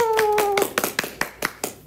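Clapping from an audience welcoming a guest onto a school broadcast-festival talk show, a quick flurry of separate hand claps over a brief sustained tone, then a few sharp distinct claps trailing off.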